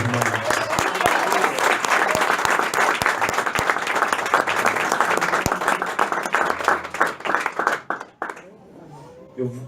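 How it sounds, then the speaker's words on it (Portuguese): A church congregation gives a loud, sustained round of applause with many hands clapping together, then fades out near the end while a voice speaks over it. "Dê uma salva de palmas para Jesus."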